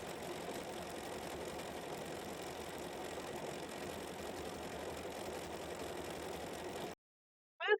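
A sewing machine runs a long steady stretch of decorative stitching, its fast motor whir and needle chatter continuous and moderately close, stopping abruptly near the end before a short sound.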